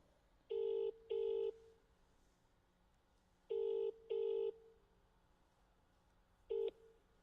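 Telephone keypad tones sound as a call is dialed, two quick beeps, a pause, two more beeps, then a single beep after another pause, each a clear steady dual tone over a quiet background.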